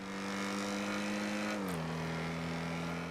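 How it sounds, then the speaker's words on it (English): Sports car in GTA V, styled like a newer Jaguar, accelerating: a loud, steady engine tone climbs, dips briefly at a gear shift, then settles into a smooth sustained drone. "Sounds nice, this car."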